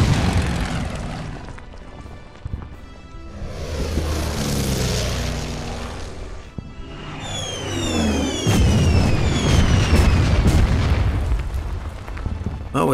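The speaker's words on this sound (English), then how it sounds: "And an aircraft flying out there." Aircraft drone overhead in a World War II strategy game set in Burma, with a steady engine roar swelling and fading across the scene amid deep booms and rumbling explosions.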